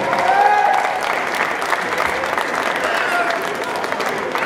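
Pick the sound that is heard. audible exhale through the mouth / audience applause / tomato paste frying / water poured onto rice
audience applause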